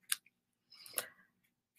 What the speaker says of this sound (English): So I'm just trimming that off right now.